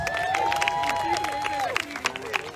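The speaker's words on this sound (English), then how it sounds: "Give yourselves a round of applause for coming on out." Outdoor crowd at a social justice march in Bermuda clapping and cheering after a call from the organizers, steady applause with whoops, beneath a loud voice addressing the crowd.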